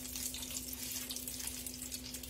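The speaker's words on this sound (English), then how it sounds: "you put a little bit of water" Water trickles steadily into powdered sugar in a kitchen while a glaze is mixed, a soft continuous pour alone with a faint electrical hum beneath.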